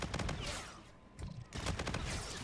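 Suppressed submachine gun fire in a video game comes in rapid bursts that are fairly muffled, with a brief lull in the middle before firing resumes, moderately loud throughout.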